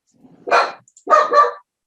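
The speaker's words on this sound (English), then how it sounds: "My dog is getting excited of the breakout session." An excited dog lets out two quick, loud barks close by, the second one doubled, with brief quiet between them and no talk over them.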